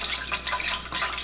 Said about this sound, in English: Then pour some lime juice.